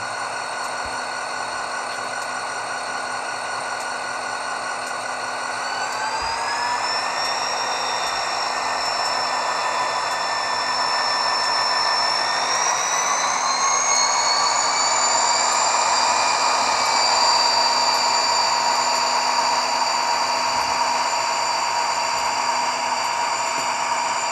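An HO-scale Rapido GP40R model diesel locomotive in Illinois Central livery runs with a LokSound sound decoder, giving a steady, humming engine sound with a whining tone that rises in two steps as it gathers speed.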